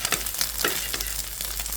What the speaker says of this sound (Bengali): 2টো ডিম আগে দিয়ে তারপরে কিন্তু ভেজে নিলাম